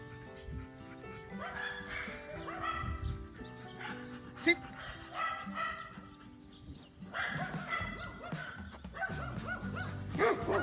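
Dogs bark repeatedly at a training session with a young Malinois, sharp barks and yips at mid distance with some whimpering, while a person talks over them.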